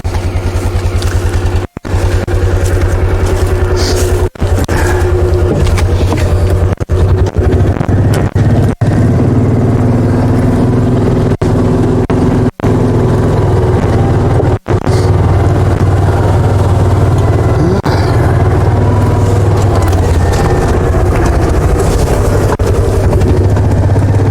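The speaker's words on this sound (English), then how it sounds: "Let me get it with the hoist, the winch." A powered winch or hoist runs steadily, pulling over a pine tree outdoors, with a loud continuous engine-like drone that breaks off briefly a few times.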